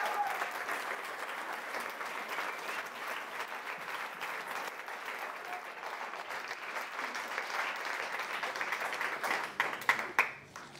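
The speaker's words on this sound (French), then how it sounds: "On peut les applaudir très fort aussi." A sustained round of audience applause at a public talk in Marseille, fairly soft and even, swelling with a few sharper claps near the end.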